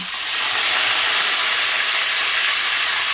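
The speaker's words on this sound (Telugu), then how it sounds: "ఆయిల్ వేడెక్కాక జీలకర్ర, ఒక 1/2 స్పూను ఆవాలు, కరివేపాకు" Cumin, half a spoon of mustard seeds and curry leaves hit hot oil in a fish curry pan, erupting into a loud, continuous, close-up hissing sizzle that holds steady for several seconds, with no voices.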